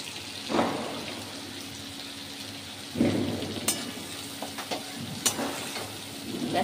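Ground spice paste fries with tomato and salt in a pan over a medium flame for a banana-flower dish, a steady close sizzle broken by a few louder bursts and stirring scrapes.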